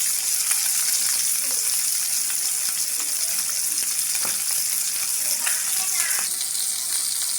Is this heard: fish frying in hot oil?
yes